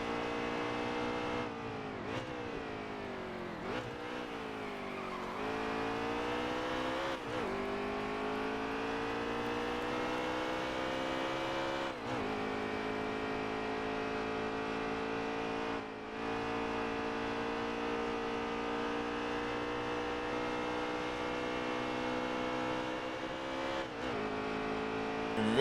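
Stock car engines roaring in the NASCAR Heat 3 racing game, a steady loud drone of rising and falling revs with repeated gear-shift dips and cars passing close, no talk.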